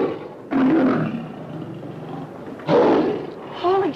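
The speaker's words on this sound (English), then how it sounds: "Lion?" Caged lion in an old Hollywood comedy roaring in three loud, rough bursts spaced a couple of seconds apart, close and deep, with grunting between them.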